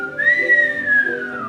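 A single long whistled note, clear and loud, slowly gliding down in pitch over a faint background.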